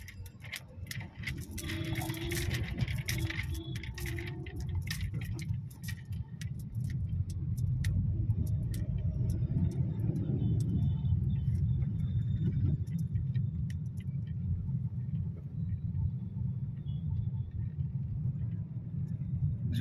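Road traffic near the Jorhat ISBT bus terminal, a continuous low rumble of passing cars and engines, steady and moderately loud, with faint voices at the start.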